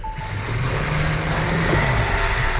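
GWM Tank 300 Hybrid SUV off-road, its engine a steady low drone under a broad rumble of tires working through rough ground, close and continuous with no talk.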